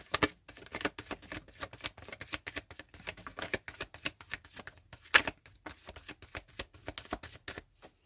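Tarot cards shuffled by hand in a quiet room, a steady run of soft, papery riffles and clicks with one sharper snap midway, close and alone with no talk.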